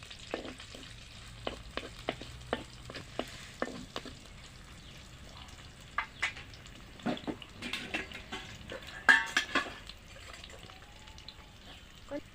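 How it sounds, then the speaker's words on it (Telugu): Cumin seeds sizzle in hot oil in a pan for a tamarind leaf chutney, with a soft steady fry broken by repeated sharp clinks and scrapes of a spoon stirring, close and moderately loud. "ఒక చెంచా జీలకర్ర వేసుకోవాలి మంచిగా గోలాలి"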